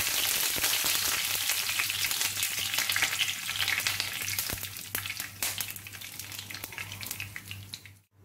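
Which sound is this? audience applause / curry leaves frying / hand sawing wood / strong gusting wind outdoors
curry leaves frying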